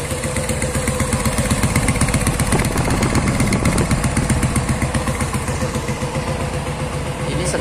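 A motorcycle engine runs steadily during an exhaust emission test at a vocational school, a continuous close, loud idle with a rough, pulsing putter throughout and no speech over it.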